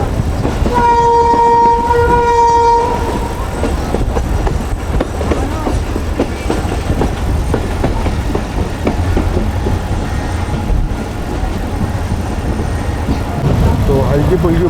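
The Millat Express passenger train rolls along on its Faisalabad route with a continuous rumble and clatter, opening with a loud two-tone horn blast; voices speak over the running noise.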